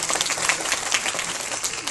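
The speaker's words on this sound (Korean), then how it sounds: "네, 박수 부탁드립니다." Audience applause at a live talk during a film screening with the director and actors present, a brief, steady wash of massed clapping heard from a distance, with no voices over it.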